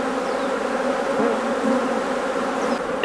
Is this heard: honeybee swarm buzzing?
yes